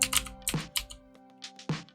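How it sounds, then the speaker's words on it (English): Quick bursts of typing on a computer keyboard, a handful of close, crisp key clicks in irregular rhythm with short pauses between them. "Hit there and type in backup."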